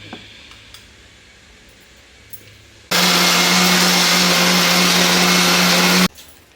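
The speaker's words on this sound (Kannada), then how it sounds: "ಇದನ್ನ ಇವಾಗ ರುಬ್ಕೊಂಡ್ರೆ ಚಟ್ನಿ ರೆಡಿ" A kitchen mixer grinder whirs loudly and steadily for about three seconds while grinding tomato chutney with salt, starting and stopping abruptly, with quiet room noise around it.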